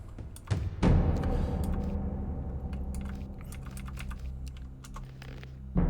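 Rapid clattering keystrokes on a computer keyboard while playing the PC game Gothic, close and steady over a low background hum, with a few heavier thumps mixed in.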